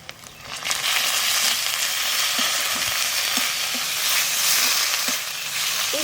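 Ground cumin, coriander and chili paste sizzle loudly in a hot pan for a crab curry, a continuous close frying hiss broken by occasional stirring scrapes.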